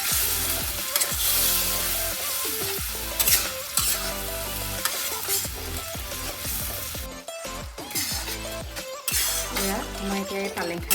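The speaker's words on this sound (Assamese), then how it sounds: "মই 5 মিনিটমানৰ কাৰণে আকৌ এনেকৈ ভাজি দিম।" Spinach paste fries and is stirred in a pan for an egg curry, a close, loud sizzle broken by repeated scraping strokes and clinks throughout, with no voices.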